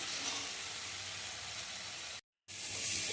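Cashew paste sizzles steadily in hot spiced oil as it is fried for a Bengali eggplant dish, a close, dense hiss that briefly cuts out to silence before resuming.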